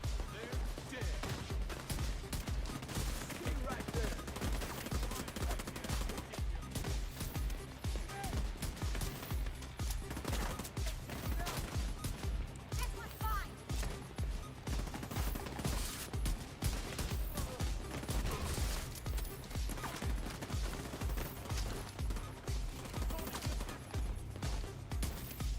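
Gunfire from The Division 2, with a pistol used heavily, comes as a dense, steady stream of sharp repeated shots and impacts lasting throughout, with someone talking over the action.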